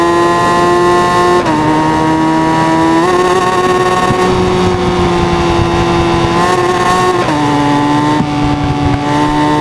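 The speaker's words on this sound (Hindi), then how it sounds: "भाई देखो एक से बढ़कर एक बाइक जा रही है" Several motorcycles roar past on a highway, including a 2024 Suzuki Hayabusa on a top-speed run, with a steady loud engine drone and shifting pitch as bikes accelerate and pass one after another.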